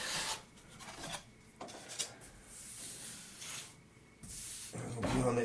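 A blade is drawn across a cherry burl wood ukulele top in several short rasping strokes, each a dry scraping rub separated by brief pauses, close and fairly quiet.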